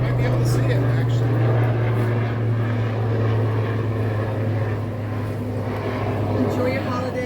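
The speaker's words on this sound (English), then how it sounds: "We have a helicopter flying above us." A steady, loud helicopter engine drone with a low rotor hum fills the whole stretch, continuous and close, as it flies overhead.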